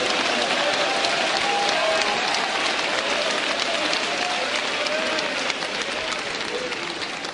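A church congregation applauds and cheers during a sermon, dense sustained clapping from a large crowd at constant volume with voices mixed into the noise.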